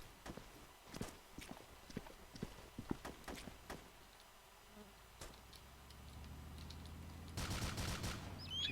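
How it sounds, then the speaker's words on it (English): Faint, scattered gunfire in an Arma 2 military combat game: irregular clusters of distant cracks and pops, with a steadier rumble building toward the end. "It's either stray shots or someone saw where I was."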